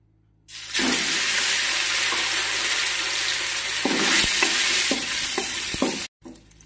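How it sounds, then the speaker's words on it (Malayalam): Marinated chopped chicken fries in vegetable oil with a loud, steady sizzle that starts abruptly, stays close and continuous, and is broken by a few soft stirring knocks before it cuts off near the end. "ആദ്യം നമുക്ക് ചിക്കൻ ഒന്ന് ഫ്രൈ ചെയ്തെടുക്കാം."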